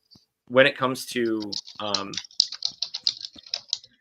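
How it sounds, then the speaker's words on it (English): A voice talks briefly, then rapid clicking keystrokes from a nearby computer keyboard clatter on loudly and unevenly for a couple of seconds. "your keyboard's pretty loud."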